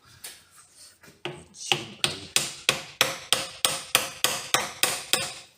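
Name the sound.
hammer striking metal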